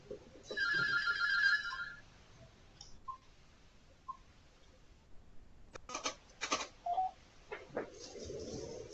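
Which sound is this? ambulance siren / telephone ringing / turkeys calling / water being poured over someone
telephone ringing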